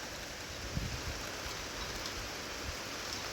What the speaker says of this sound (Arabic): راني نسجل وراهي شتا تصب